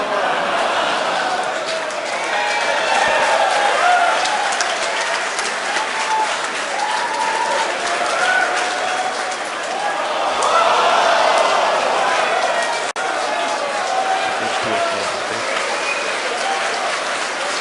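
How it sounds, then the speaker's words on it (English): A SpaceX team cheers and applauds in a mission control room during a Dragon resupply launch (CRS-16): a continuous wash of crowd noise and clapping, swelling and fading in waves, sits behind a steady commentary voice. "You may have heard the SpaceX team cheering in the background"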